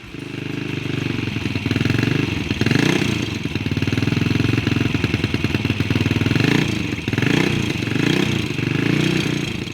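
A classic Ducati motorcycle engine idles loud and close with a deep throbbing note, the pulsing beat swelling and easing in small revs throughout.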